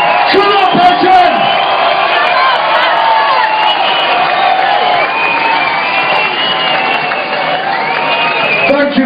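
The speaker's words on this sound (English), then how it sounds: "give yourselves a round of applause for being the best club in the country!" A nightclub crowd at a club night finale roars, cheers and whoops loudly and continuously, with shouting voices mixed into a dense, sustained wall of noise.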